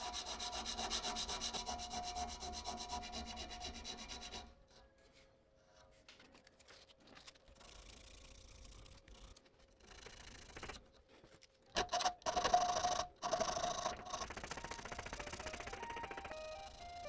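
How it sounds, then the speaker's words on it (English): Hand filing on the small points of a brass guard for a mosaic Damascus dagger, heard as steady rubbing rasp strokes that run through the clip, louder at the start and again near the end. "then I can start filing the little points"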